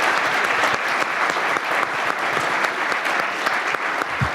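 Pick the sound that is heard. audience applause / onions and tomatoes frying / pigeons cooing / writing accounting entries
audience applause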